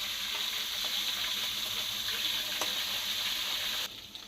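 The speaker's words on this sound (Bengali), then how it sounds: "তেল গরম হয়ে গেছে, আমি মাছের মাথাটা এবারে দিয়ে ভালো মতন এইটা" Fish head frying in hot oil gives a loud, steady sizzle with scattered crackles close by, then drops sharply to a quieter hiss in the final moments.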